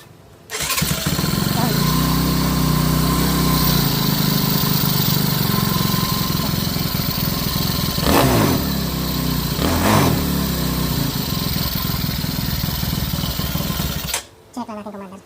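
A Yamaha Mio i 125 fuel-injected scooter starts after being cleaned and serviced, its small engine catching and running steadily up close, with two quick rev blips midway before it cuts off abruptly near the end.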